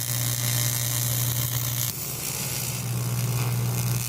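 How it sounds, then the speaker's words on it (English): Welding a cracked rearset exhaust mount back onto a Honda CB77 SuperHawk motorcycle: a steady close crackling sizzle with a constant hum, briefly dipping midway, with no talk. "Welding the exhaust mount back on."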